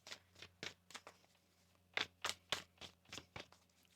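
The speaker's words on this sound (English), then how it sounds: "One more shuffle here." A tarot deck being shuffled by hand gives a run of quiet, papery riffling bursts at an uneven rhythm, close and soft, with no one speaking.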